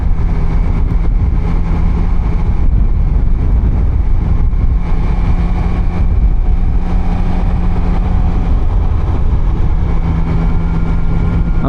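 A Triumph Daytona 660 sport motorcycle ridden on the road, its engine droning steadily under heavy wind rush, loud and constant with no voices.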